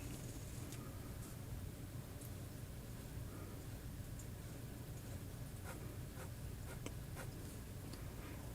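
An extra fine nib fountain pen, filled with a wet, somewhat viscous scented spruce ink, scratches softly across paper in faint, close strokes over a steady low background hiss.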